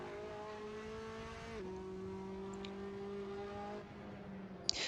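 Assetto Corsa race car engine held at a steady high rev, then dropping to a lower pitch as it shifts, with a faint tire squeal near the end and no talking.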